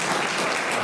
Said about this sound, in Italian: un applauso a Tonino